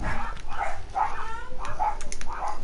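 Dogs in the video game Resident Evil Biohazard give a run of about five fairly loud, evenly spaced barks or yelps, set against faint game ambience.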